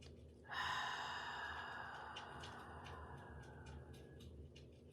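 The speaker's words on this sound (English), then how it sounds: "So it's a longer exhale, quick inhale." A person does a breathing exercise, with a sharp quick inhale followed by a long, drawn-out exhale, close and fairly quiet.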